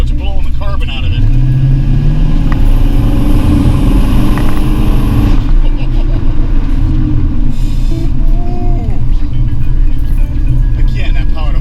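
The engine of a 1932 Ford restomod, a show car that has sat undriven for a while, roars loudly up close as it revs and accelerates, with a rising engine note over steady road noise and talk throughout.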